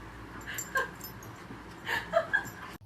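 Dogs whimper and let out short high yips while playing in the morning, two brief clusters of squeals rising over a quiet, low background.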